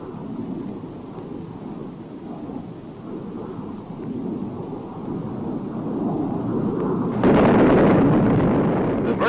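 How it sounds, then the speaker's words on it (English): Demolition bombs of 750 pounds dropped from B-57 bombers detonate as a continuous distant rumble of explosions, building louder toward the end with a sharper, heavier blast burst in the last two seconds. "Shown here is the delivery of a partial load composed of 13 750-pound"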